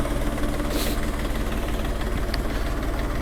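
A steady, low mechanical rumble of a Jinma 3244 HS tractor engine idling, continuous and fairly close, with a faint brief higher clink partway through.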